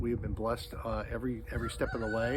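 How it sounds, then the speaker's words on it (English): A rooster crows in the Kentucky countryside, its calls heard under someone talking nearby, a bit distant and partly masked by the voice. "You can hear the rooster crowing over there."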